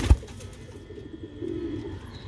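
Sialkoti pigeons coo softly at close range, low murmuring calls rising and falling over a quiet background, with a brief thump at the start like a wing flap.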